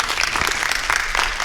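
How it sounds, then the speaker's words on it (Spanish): Loud, dense audience applause greeting a speaker at a lecture event, a continuous wash of many hands clapping close by, with no talk over it. "Un fuerte aplauso para el ponente."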